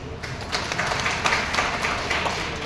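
An audience claps steadily at a talk on the Waqf Board, a sustained wash of many hands filling the room without a break.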